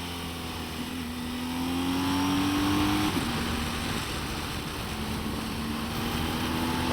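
A motorcycle engine holds steady on the throttle around a tight bend, then picks up with a rising drone, close and continuous with wind noise and no talk.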